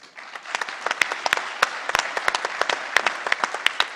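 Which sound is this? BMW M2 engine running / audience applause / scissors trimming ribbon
audience applause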